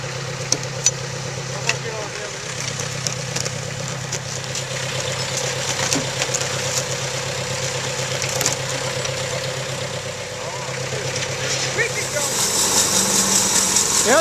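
A Thomas bandsaw sawmill engine runs steadily while oak logs are sawn into bunks for a logging sled, a constant mid-pitched drone with faint clicks and knocks and people talking nearby.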